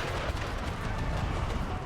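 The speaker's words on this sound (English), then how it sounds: "Deciding to move forwards into our musket fire and artillery." Musket volleys and artillery in an American Civil War battle game roar as one continuous, loud wall of overlapping gunfire and booming cannon.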